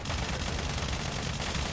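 Fat Man hose cannon firing in the SULFUR video game, a continuous dense roar of rapid automatic shots with heavy low-end rumble, loud and steady across the whole stretch with no pauses.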